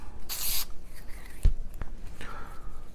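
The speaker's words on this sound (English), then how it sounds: "I will spray the preservative onto it." A short aerosol burst of gun preservative sprayed onto a semi-automatic pistol's recoil spring guide, a hissing spray of about half a second, followed by a few faint rubbing and clicking handling noises.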